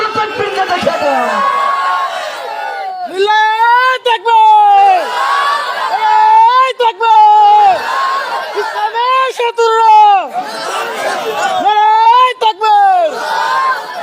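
Large crowd shouting the takbir in unison with raised hands, loud, repeated voiced chants rising in waves every couple of seconds, with a leader's voice and murmuring between them.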